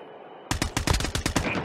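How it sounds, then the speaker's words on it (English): Rapid automatic gunfire in the mobile shooter Call of Duty Mobile, a loud close burst of about a dozen quick shots after a short quiet stretch of hiss. "Yeah, I was shooting that guy from over here."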